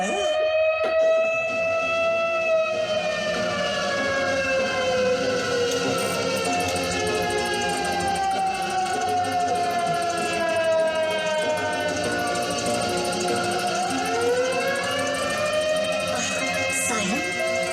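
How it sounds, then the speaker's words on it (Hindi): A loud, continuous siren wails with slowly rising and falling tones, layered with several overlapping pitches, filling the whole stretch without pause. "सायरन"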